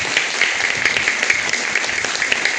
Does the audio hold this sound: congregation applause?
yes